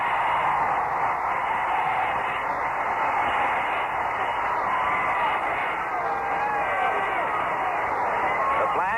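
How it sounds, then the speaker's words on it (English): A steady, dense roar from a stadium crowd at an AFC Championship football game between the Pittsburgh Steelers and the Oakland Raiders in Oakland fills the whole stretch, thin and band-limited as if carried over a radio broadcast. "Listen to the crowd here in Oakland"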